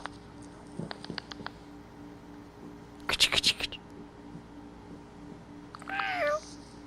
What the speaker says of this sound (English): Heard a kitty.